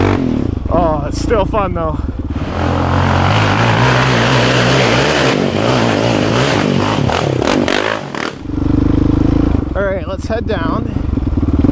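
Dirt bike engine revving and lugging loud and close as it climbs a rutted old trail in second gear, with throttle bursts and scraping over the ruts, while a rider talks over it.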